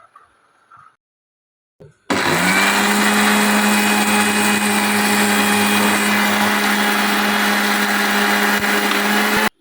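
An electric mixer grinder grinds roasted whole spices for garam masala, a loud steady whirring motor roar that starts abruptly after a few faint clicks and runs continuously for about seven seconds before stopping.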